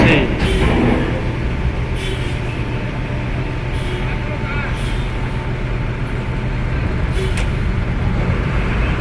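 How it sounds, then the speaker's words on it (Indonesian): Rosi bus passing at night at Bakauheni port, a steady rumble of heavy engine and road noise that stays loud throughout, with brief clicks and a voice over it. "Ada bis Rosi."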